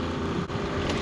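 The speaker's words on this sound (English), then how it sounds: "Now the reason I've got the engine revving is because it helps" A fishing boat's engine revs to power the winch, a brief, steady, close mechanical drone with wind buffeting the microphone.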